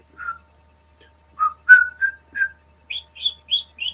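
Someone whistles a short run of clear, separate notes, starting low and stepping up to higher, quicker chirps, close and alone in a quiet room.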